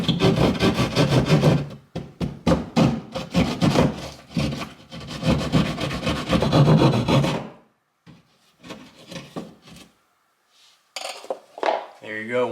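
Drywall being cut by hand to fit an electrical box for a new receptacle, rapid rhythmic rasping saw strokes up close, then scattered scrapes and a brief final rasp.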